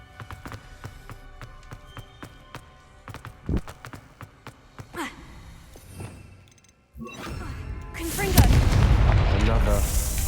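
A Confringo fire spell explodes in the Hogwarts Legacy video game, a loud burst with crackling debris after a series of sharp thuds and clicks, set among game sounds and voices.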